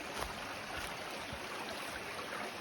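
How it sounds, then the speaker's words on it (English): A flowing creek on a nature hike makes a steady broadband rush of water that holds at an even level from start to end, with no voices. "good flowing creek there"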